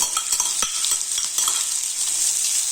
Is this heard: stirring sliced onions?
yes